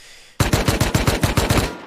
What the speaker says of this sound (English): Give it a quick shot, MICRØ, and give us a good reload.